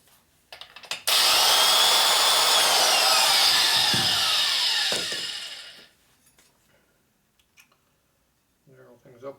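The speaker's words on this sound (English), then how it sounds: "Grinder right here." An electric die grinder with a stone bit porting a 1990s Harley-Davidson Sportster 1200 cylinder head whines loudly and steadily for about five seconds, then winds down, with faint talk afterward.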